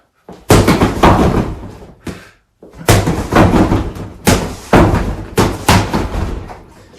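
A Century Wavemaster standing punching bag in a home gym takes roughly eight heavy, thumping strikes, loud and close, in short irregular bursts with brief pauses between.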